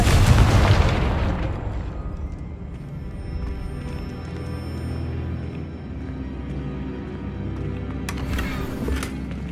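A Confringo blasting spell explodes in Hogwarts Legacy: one loud, close boom right at the start, then a long rumbling decay that fades into low ambient noise, with a faint rattle near the end.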